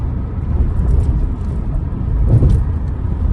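Car cruising on a highway road trip in Iowa gives a steady, loud low rumble of engine and road noise from inside the cabin, continuous with no talk.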